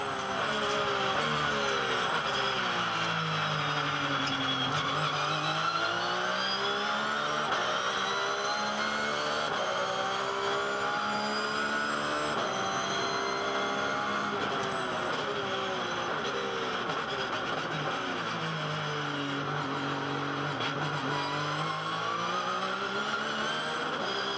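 On-board hot lap in a Porsche GT3R race car at Sydney Olympic Park, its engine loud and continuous throughout, repeatedly rising and falling in pitch through gear changes and corners, with no talk.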